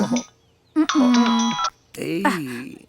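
A short electronic telephone ringing tone sounds while a call is being placed. Brief voice sounds come just before and just after it.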